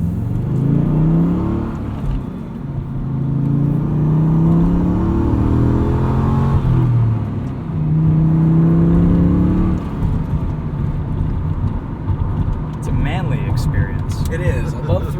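A 2004 Pontiac GTO engine revs loud and close, rising and falling through its range in two long sweeps with a deep throaty tone, while a person talks intermittently over it.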